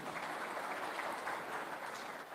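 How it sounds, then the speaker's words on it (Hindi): An audience at a public talk event applauding, dense continuous clapping from a large crowd that holds steady throughout. "मैं चाहूंगा उनकी सोच के लिए हम सब मिलकर के एक बार जरा जोरदार तालियां दे सकते हैं।"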